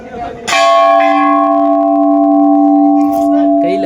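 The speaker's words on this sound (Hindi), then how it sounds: "एक बार घंटी तो बजा दे" A metal Hindu temple bell is struck loudly once and rings out with a long, sustained shimmering tone, then is struck again near the end.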